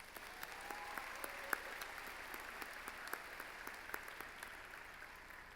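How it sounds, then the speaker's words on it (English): Applause at a high school commencement ceremony, a steady wash of many hands clapping from a large crowd, fairly distant and even throughout, with scattered sharper claps standing out. "Let's give them a round of applause."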